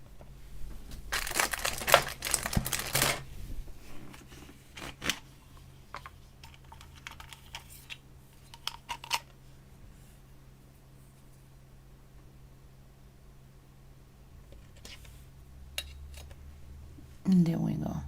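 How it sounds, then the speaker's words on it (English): A glass butterfly cane being cut: a burst of loud, crisp clicking and scraping early on, then a few sparse knocks and clatters, while a voice talks softly in the background. "I'm going to cut it and then refocus so you can see how it came"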